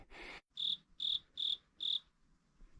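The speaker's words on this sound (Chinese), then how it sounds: "这个天气竟然还有蟋蟀！" Crickets chirp at night on a quiet mountain road, giving four clear, evenly spaced chirps close by after a brief burst of rustling noise.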